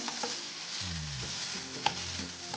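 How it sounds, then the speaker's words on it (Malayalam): Potatoes fry in coconut oil in a pan with a soft, steady sizzle and occasional stirring clatter, quiet and close, without any voices. "നന്നായി ഒന്ന് ഫ്രൈ ആയി വരട്ടെ."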